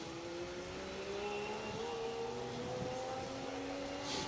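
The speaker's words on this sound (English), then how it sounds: "sounds like the 2-stroke Saab." A two-stroke Saab rally car running on an R.A.C. Rally stage, its buzzing, slightly uneven engine note heard from a distance, wavering in pitch as it struggles and then picks up pace.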